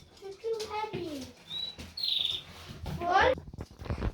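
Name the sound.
canaries chirping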